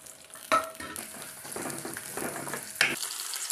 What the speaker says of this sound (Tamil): வெங்காயத்தை போடுறேன் பாருங்கள்